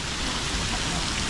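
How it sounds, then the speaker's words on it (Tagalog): Heavy rain pours down on a riverside during a flood, a dense, loud, unbroken hiss with no pause across the short stretch. "Dito lakas talaga ng ulan."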